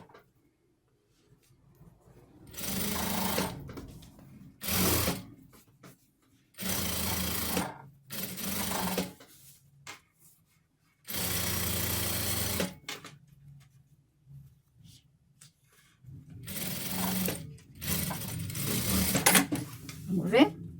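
A sewing machine stitches a sweatshirt along an existing seam, running in several loud, rapid bursts separated by pauses, up close.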